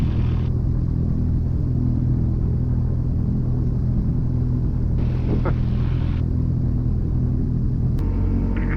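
A Mooney M20J single-engine airplane rolling for takeoff at Chester County: a steady, loud, droning engine and propeller rumble that holds constant, heard from inside the cockpit.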